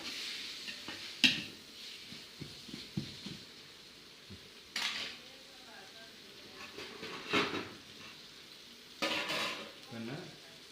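Tomatoes sautéing for chicken biryani, sizzling steadily in a pan while a utensil stirs and scrapes in bursts, with occasional clinks against the metal, close by.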